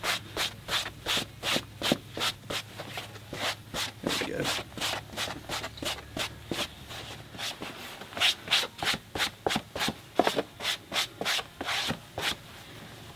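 Steady back-and-forth rubbing strokes as a hat crown is cleaned of hair and dirt during hat shaping, close and regular, about two strokes a second over a low hum.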